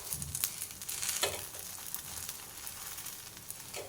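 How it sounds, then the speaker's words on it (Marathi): Sabudana thalipeeth roasts in ghee on a pan over low heat, giving a soft, steady crackling sizzle with a few louder pops early on. "हे थालीपीठ आता एका बाजूने भाजलेले आहे, दुसऱ्या बाजूने पण छान असं भाजून घेऊया"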